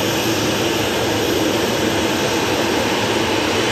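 A Batik Air passenger jet airplane gives a steady, loud broadband engine roar that holds evenly throughout with no voices.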